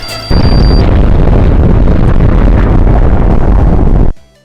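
A bomb explodes in the video game Batman: Arkham Origins, a sudden very loud, dense roaring blast that holds for about four seconds before cutting off sharply, with no voices.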